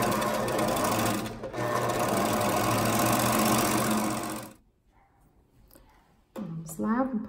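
An overlock sewing machine stitches the sleeve of a child's dress, a loud, fast continuous whir that runs steadily for several seconds and then cuts off, with someone speaking shortly after.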